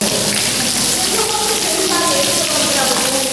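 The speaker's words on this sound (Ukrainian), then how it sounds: "Ось такий фонтан утворився через дощ" During a storm in the Lviv region, rainwater gushes through a building wall into a parking area, making a loud, constant rushing splash like a fountain or waterfall pouring onto pavement.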